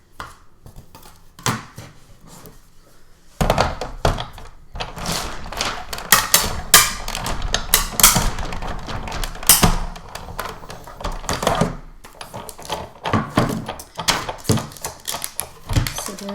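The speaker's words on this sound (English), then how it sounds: "run it through our die cutting machine" A die cutting machine cranks a die through paper for a small gift box, giving a run of close, loud mechanical clunks, rattles and creaks that rise sharply after a quieter stretch and continue in irregular bursts.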